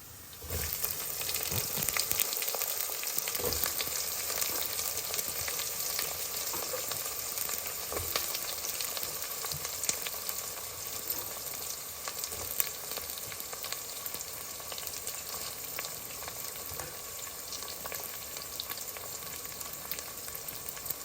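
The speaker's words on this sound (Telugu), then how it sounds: "వెల్లిపాయలు బాగా వేగుతున్నాయి కదా ఇప్పుడు ఉల్లిపాయలు వేసేస్తున్నాయి ఇందులో" Garlic and onions frying in oil for tomato drumstick rasam, giving a continuous faint hissing sizzle with small crackles and little change throughout.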